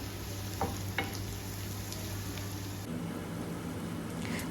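Fried onion, paste and garam masala stirred in a pan, a steady low sizzle with a couple of soft scrapes near the start, continuous and fairly quiet throughout.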